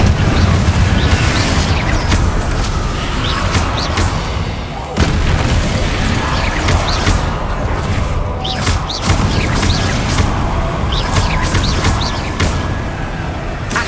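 Spell blasts in the Hogwarts Legacy video game, Confringo and Incendio fire explosions, thumping repeatedly in a dense, loud stream of booms and bursts with game effects and occasional voice over it.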